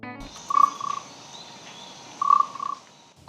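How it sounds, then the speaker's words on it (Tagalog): Bullfrog in Negros Oriental croaking in two distinct bursts of rapid pulsed croaks about two seconds apart, fairly close, over a quiet outdoor background with no talk. "Ayan yung palaka. Yan, yung palaka."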